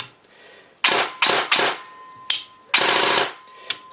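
A G&D DTW CQBR PTW clone airsoft gun, an electric rifle on an 11.1 V LiPo, fires several short bursts nearby, sharp rapid mechanical clatter in quick strings with brief gaps and a lone shot near the end.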